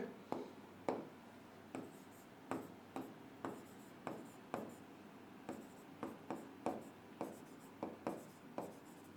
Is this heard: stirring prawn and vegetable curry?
no